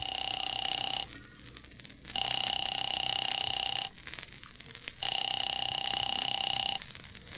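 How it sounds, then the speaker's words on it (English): An old-fashioned telephone ringback heard through the receiver: three long, steady, buzzing rings separated by short silences, even and mechanical, faint with a hiss underneath. "Phone seemed to ring forever."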